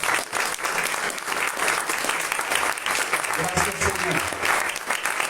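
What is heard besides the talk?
church congregation applause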